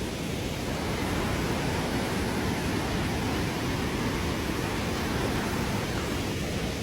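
A hidden waterfall on the Aceh–North Sumatra border rushes far below a steep slope, a steady, dense roar of falling water that holds unbroken and even throughout.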